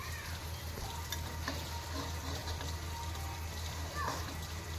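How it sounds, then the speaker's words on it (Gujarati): Chocolate pieces with about two spoonfuls of milk melting on a hot griddle give a soft, steady sizzle with faint stirring scrapes, close and continuous throughout. "હવે એમાં થોડું દૂધ ઉમેરીશું બે ચમચી જેવું અને આમાં જ તવી પર મેલ્ટ મેલ્ટ થવા દઈશું"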